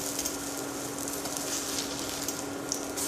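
Zucchini fritters sizzle and fry steadily in a non-stick pan, a continuous close crackling hiss with fine spattering pops throughout.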